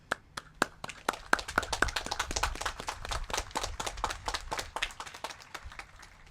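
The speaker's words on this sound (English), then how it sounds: "I'm going to ask our school board to join me in giving you the first round of applause" Scattered clapping from a school board and audience honoring teachers at a Teachers of the Year evening, starting with a few sharp separate claps and building into a steady, moderate round of applause.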